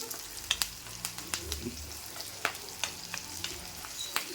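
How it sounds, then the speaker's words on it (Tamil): Onions sautéing in a pan, a quiet sizzle broken by frequent sharp clinks and scrapes of a spoon against the pan. "வெங்காயம் நல்லா வதங்கணும். வதக்கி எடுப்போம்."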